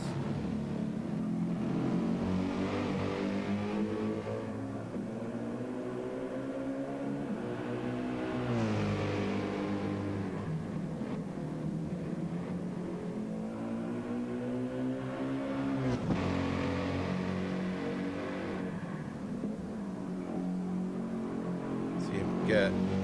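Race car engines whine and rev through rising and falling pitch sweeps as cars pass during a qualifying session, steady and loud, with a voice talking over them.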